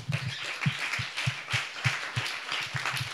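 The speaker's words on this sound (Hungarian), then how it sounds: "Szerintem egy tapsot adhatunk, nem?" A modest audience applauds at a talk on housing and loans, individual claps audible within a lively, somewhat uneven patter, close and moderately loud with no speech over it.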